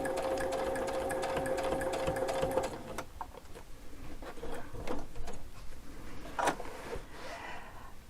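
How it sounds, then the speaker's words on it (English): A sewing machine stitches fabric in a steady whirring run that ends after about three seconds, followed by several sharp clicks and taps of thread and fabric handling, close and fairly loud. "I'm going to bring my threads up and I will sew those in again"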